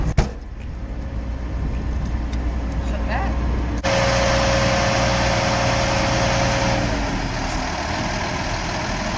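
A warmed-up coach bus engine idles steadily with a heavy low rumble throughout, growing louder and fuller partway through, with a faint voice speaking over it.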